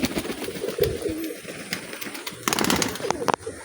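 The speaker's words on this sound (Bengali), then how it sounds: "এই দেখুন পায়রাটা, দেখুন সবুজ পায়রা আছে" Pigeons, including a green pigeon, coo in short soft bursts at close range, with rustling and someone talking intermittently over the birds.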